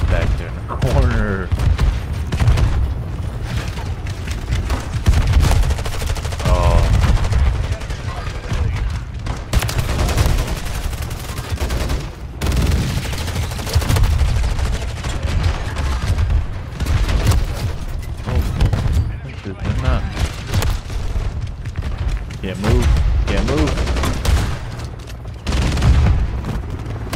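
Shotgun blasts from hardcore multiplayer in Call of Duty MW3, loud booming shots firing repeatedly in irregular bursts amid footsteps and other game noise, with a player commentating over the action.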